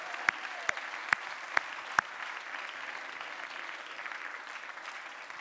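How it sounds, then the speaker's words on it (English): A few sharp, synchronized claps from a science-communication competition audience at an international final, five distinct hits spaced under half a second apart, then fading into low room murmur. "as near as you can manage to hypersynchronous applause, please, for our UK winner, Alex Lathbridge."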